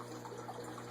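Steady, soft churning of water pushed by a Jebao WP-25 wavemaker pump in a quarantine aquarium housing Moorish idols, a constant low rushing wash with no breaks.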